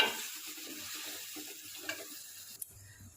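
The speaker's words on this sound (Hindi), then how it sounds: "अब इसके अंदर मैं टमाटर प्यूरी शामिल कर दूंगी।" Ground tomato puree is added to goat liver masala frying in a pan, producing a soft, faint sizzle with a couple of brief clinks near the end.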